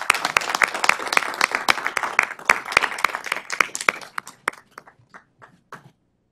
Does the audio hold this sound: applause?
yes